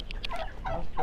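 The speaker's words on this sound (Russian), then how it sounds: "Индейка." Turkey gobbling at an outdoor market, a short rapid warbling burst repeated a few times at close range over a steady background hum.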